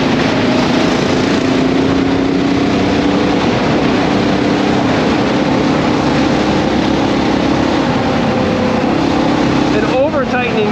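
A Honda XR650L motorcycle chain runs on worn chain sliders, giving a continuous loud mechanical whir and rattle under a droning engine, steady throughout with a brief shift near the end.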